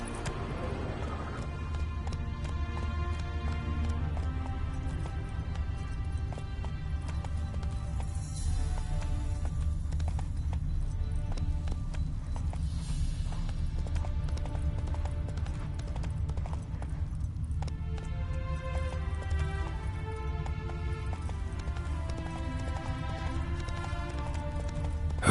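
Roach, Geralt's horse in The Witcher 3 video game, gallops with steady clip-clop hoofbeats that run continuously at moderate loudness beneath a swelling orchestral score.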